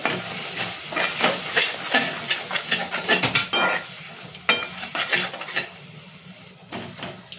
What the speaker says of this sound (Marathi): 1 चमचा मसाला, गोडा मसाला आणि बिर्याणी मसाला टाकून आपल्याला ते परतून घ्यायचे।